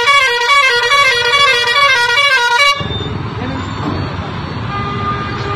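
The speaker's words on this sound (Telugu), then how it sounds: "ఇసొంటి హారన్లు ఎందుకు పెడుతుండ్రు బండ్లకు" Loud vehicle horns on a Bengaluru road, blaring in a sustained, continuous blast that cuts off abruptly halfway, leaving traffic rumble and background noise.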